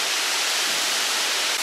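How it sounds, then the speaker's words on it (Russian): A small waterfall on a mountain stream near a Bulgarian spa resort pours in a loud, close, unbroken rushing roar, with no voices over it. "Здесь идет такая горная речка, и вот водопадик."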